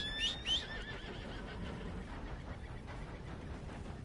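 A horse whinnies in Red Dead Redemption 2, two short high neighs close by at the start, followed by a low steady rumble of ambient background.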